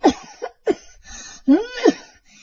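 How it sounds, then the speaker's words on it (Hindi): Several harsh coughs from an older woman in quick succession, close and loud, with brief gaps between them and no talking. "आपको तो बहुत खांसी हो रही है"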